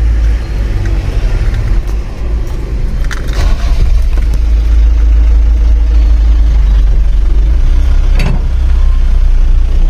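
Cars and engines crawling in a slow traffic jam, a loud constant low rumble of idling and creeping vehicles close by, with occasional brief knocks and rattles.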